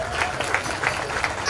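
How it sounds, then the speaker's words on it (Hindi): A crowd at a Lohana community mela gathering in Ahmedabad claps as a guest is called to the stage, a brief, even burst of many hands at moderate distance. "एक बार तालियां हो जाएं,"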